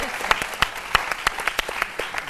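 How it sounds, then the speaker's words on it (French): A studio audience on a French-language television variety show claps in a sparse, uneven burst, with distinct individual sharp claps standing out over a light bed of crowd noise. "Ça s'applaudit."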